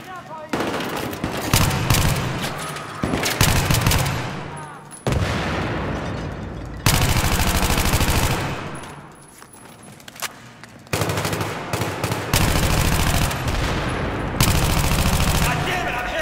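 Heavy, rapid automatic gunfire in Battlefield, with loud sustained bursts and booming impacts in repeated waves, and someone shouting over it.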